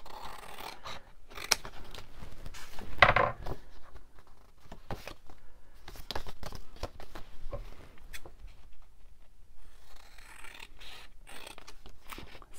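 Scissors snip through paper for a junk journal, giving a series of soft, close cuts and rustles at an uneven pace with short pauses between them.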